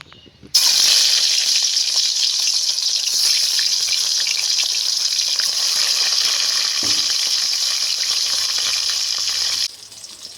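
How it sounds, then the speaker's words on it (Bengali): Pieces of catla fish dropped into hot oil, setting off a loud, broad, steady sizzle that starts abruptly, runs unbroken for about nine seconds and then drops away, close by with no talking. "এখন তেলের মধ্যে মাছগুলোকে দিয়ে ভেজে নেব"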